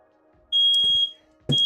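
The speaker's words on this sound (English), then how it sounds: "Fire alarm." Indoor smoke alarm sounding two loud piercing high-pitched electronic beeps, the first held about half a second, the second starting at the very end.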